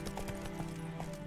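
Steady clip-clop of the horse Roach's hooves in The Witcher 3, a regular rhythm of several hoofbeats at a walking pace over a low background hum.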